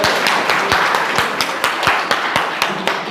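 Sustained audience applause at a school result celebration for classes 10 and 12, many hands clapping steadily and fairly loud throughout, with sharp individual claps standing out.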